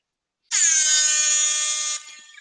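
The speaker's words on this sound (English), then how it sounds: "I gave you the reggae air horn" A reggae air horn blares in one loud sustained blast of about a second and a half, alone and up close, before dropping off into a fading tail.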